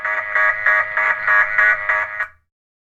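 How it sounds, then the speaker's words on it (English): A fire alarm buzzer in a classroom sounds loud and close in a steady pulsing pattern of about eight rapid beeps, then stops abruptly. "All of a sudden, an alarm goes off."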